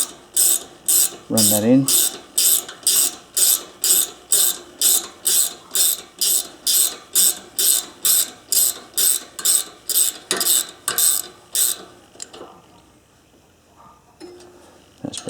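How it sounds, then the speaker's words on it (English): Ratchet ring spanner tightening a jam nut on an MTD ride-on mower engine: a long run of evenly spaced, loud, close ratcheting clicks, about twenty strokes, then tapering off, with brief speech early on. "use the ratchet ring spanner"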